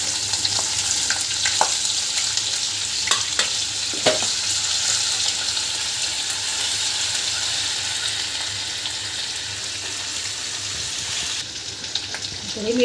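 Whole spices and ginger garlic paste fry in a pan, giving a steady, close sizzle throughout with a few sharp clicks and stirring scrapes.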